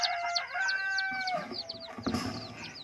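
Backyard chickens from a newly hatched brood cluck and peep nearby in a steady overlapping chorus, with a short crow-like call rising early on and scratchy movement noises toward the end.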